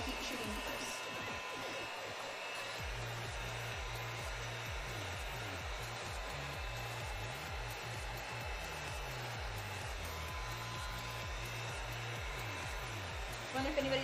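A heat gun heat-treating cosplay pieces blows with a steady, loud whirring hiss and a droning motor hum that holds unbroken throughout.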